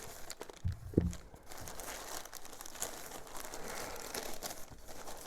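A plastic AliExpress parcel bag crinkles and rustles as it is unpacked. The sound is quiet and close, with irregular crackles and one sharp tick early on.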